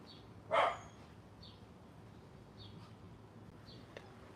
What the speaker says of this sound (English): saying hello to the neighbor's dog through the fence